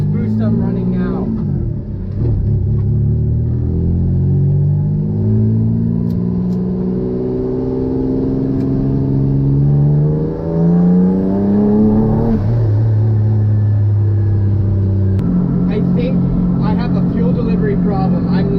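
The front engine of a twin-engine car revs hard under boost, its pitch climbing in long sweeping pulls, dropping, then rising again, loud and close with a whirring intake note throughout.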